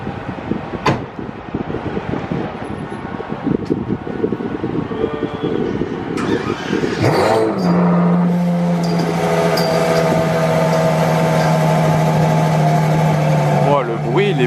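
Ferrari Monza SP2 V12 engine running, a loud steady drone that rises in after a few seconds of quieter activity and holds strong to the end, with a voice talking over it.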